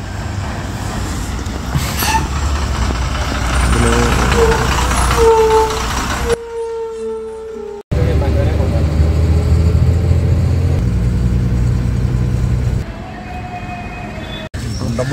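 A pilgrimage bus bound for Sivagiri pulls up with a loud, steady engine rumble and road noise, a brief horn-like tone near the middle, while people talk nearby.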